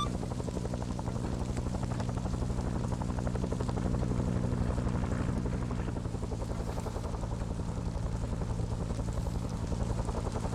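A helicopter hovers steadily over a landing zone in a Vietnam-era war game, its dense rotor chop and engine roar loud and continuous throughout with no talk.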